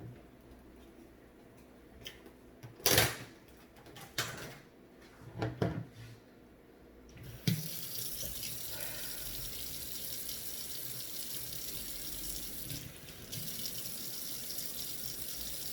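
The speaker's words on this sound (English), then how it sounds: "So I'm just rinsing a handful of my spring mix." Tap water runs over a handful of spring mix salad greens in a sink. A few clunks and knocks come first, then a steady, close rush of water holds to the end.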